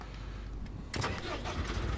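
A wheel loader's engine in a construction simulator game cranks and catches about halfway through, settling into a steady rumble after a quiet lead-in.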